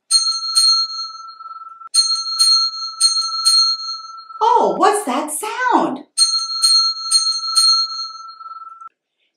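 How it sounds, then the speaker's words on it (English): A bright bell rings in repeated quick pairs of dings, pausing briefly while a voice speaks, then ringing again in the same pattern. "Yes, it's a bell."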